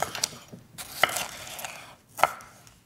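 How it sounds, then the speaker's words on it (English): Knife chopping ingredients for Cuban oxtail stew on a cutting board, a few sharp, separate cuts spaced irregularly and close by, with a light rustle between them. "We're just gonna chop up a few key ingredients."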